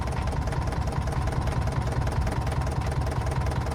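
A forklift engine in a farming video game drones steadily and loudly as the machine creeps forward, a continuous low, knocking idle-like rumble with no speech over it.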